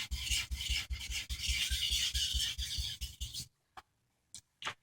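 A kitchen knife is sharpened on a 600-grit whetstone. Steady, close rasping strokes run in a regular rhythm, then stop, leaving a few faint scrapes and taps.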